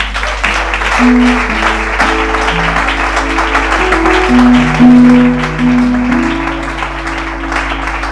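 A church congregation applauds and cheers together at a French-language service, with sustained crowd noise held loud and steady alongside tonal keyboard-like music throughout.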